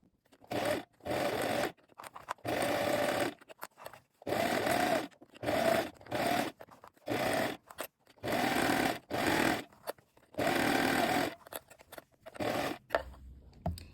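A sewing machine stitches dress seams a centimetre from the edge in short repeated bursts of fast whirring, each lasting about a second, separated by brief pauses, close and clear with no voices.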